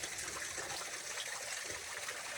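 Small waterfall in a redwood forest, a steady broadband rush of falling water at moderate distance, continuous and even throughout with no voices.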